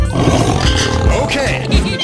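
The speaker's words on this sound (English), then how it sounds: "Tiger." A cartoon tiger lets out a loud, close roar, short and growling, with a voice speaking over it.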